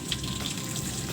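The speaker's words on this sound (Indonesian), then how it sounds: "Jadi sambil kita siram air juga, kita semprotkan ya" Water sprayed from a hose to rinse leftover food and droppings from an iguana's enclosure; a steady close hiss of spray, continuous and even throughout, with no voices.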